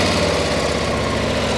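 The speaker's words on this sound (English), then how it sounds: "Just to fire it up, stock exhaust is fairly quiet because due to California emission laws" A stock-exhaust motorcycle engine idles with a steady, even low rumble, loud and close, no voices over it.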